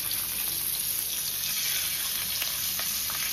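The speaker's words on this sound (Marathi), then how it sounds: "तेल घालायचं सगळ्यात आधी" Fish frying in oil on a tava, a steady close sizzle and crackle of hot oil running throughout with no voices.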